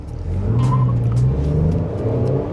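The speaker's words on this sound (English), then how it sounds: "You did hear a little bit of a wheel spin there when I took off" A Toyota Kluger V6 pulls away hard from traffic lights with a touch of wheel spin. The engine roar stays loud and close and swells steadily the whole time, with no talking.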